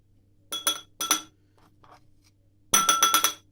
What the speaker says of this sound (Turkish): Karıştırıyoruz bir kaşık yardımıyla.